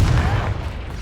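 A Confringo blasting spell goes off in Hogwarts Legacy as one deep, rumbling boom that swells at once and fades over about a second.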